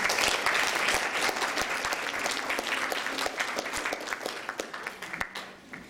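An audience at a university lecture applauds to welcome speaker Nagin Cox, with steady, dense clapping that stays full and close throughout and tapers slightly near the end.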